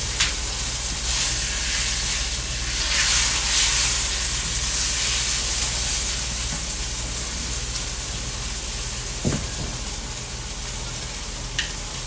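Food cooking in olive oil in a pot, a continuous broad hissing sizzle with a low steady hum beneath it and a couple of faint knocks near the end.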